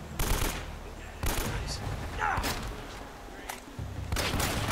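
Gunfire in Uncharted: Drake's Fortune: several bursts of rapid shots in quick succession with short gaps between them, fairly close and loud, with brief speech mixed in.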